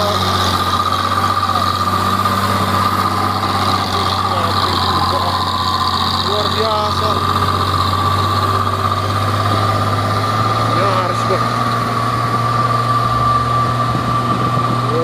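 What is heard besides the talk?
old Volvo trailer truck engine straining uphill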